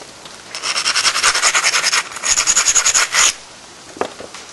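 A file rasps along a blade bevel from barb to tip in quick, even back-and-forth strokes, loud and close, with two bursts of rhythmic scraping, then a faint clink afterward.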